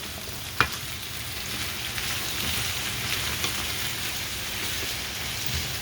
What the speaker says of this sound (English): I pretty much put them in a pan with a little bit of oil.